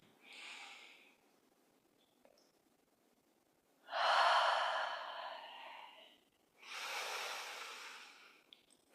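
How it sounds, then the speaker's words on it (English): Slow, deep human breaths during yoga practice: a short exhale, then two long airy breaths that swell and fade, close and quiet, with no talking. "Breathing."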